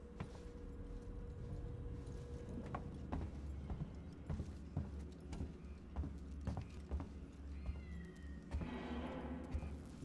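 A cat meows faintly in the sci-fi horror video game Alien: Isolation: a short, distant call near the end that is half lost under a low ambient hum and scattered soft thuds and footsteps.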